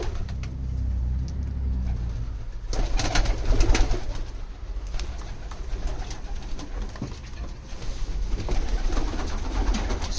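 Pigeons coo softly in an enclosed space, low rounded calls repeating over a steady background rumble, with occasional rustles and flutters.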